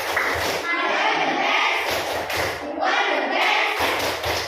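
Classroom of children performing a rhythmic clapping chant, repeated loud bursts of clapping and thuds mixed with children's voices.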